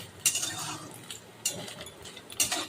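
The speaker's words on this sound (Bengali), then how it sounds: "এরকম নাড়াচাড়া করে এটা ভাজতে হবে" A spoon stirs grated coconut frying in a pan over medium heat, giving three distinct scraping clinks against the metal at a slow pace, close up with no talk.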